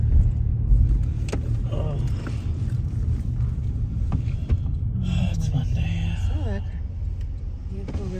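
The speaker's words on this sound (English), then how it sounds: "That vehicle really didn't even stop. Just kind of coasted on through the stop sign." A car rolls slowly past through a stop sign on a residential street, its steady engine rumble close and continuous while people talk over it.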